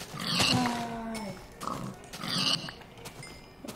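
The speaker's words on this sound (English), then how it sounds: "Look at these pigs." Pigs oink and grunt in a Minecraft-style block game, several short squealing calls spaced across the moment, fairly loud and close with a faint background hum and no talking.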